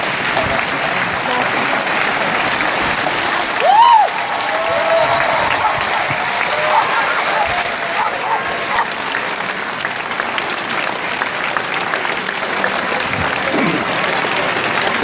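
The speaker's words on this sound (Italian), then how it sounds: "applauso." A studio audience applauds an Italian actor and director at a televised special, dense sustained clapping that swells briefly near the start and continues loudly, with a few faint voices mixed in.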